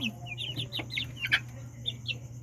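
Chicks about one and a half months old cluck and peep in a cluster of short, bright calls, close and moderately loud over a steady low hum.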